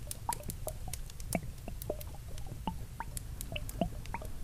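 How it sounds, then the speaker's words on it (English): Scattered first raindrops tapping on dry leaves outdoors, irregular light drips and pats close by over a low steady rumble of background noise. "First drops of rain are to be heard on the dry leaves around me"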